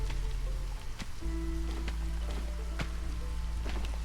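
Light drizzle rain in the video game Against the Storm, a steady soft patter of raindrops on surfaces with low ambient hum, alone and without talk.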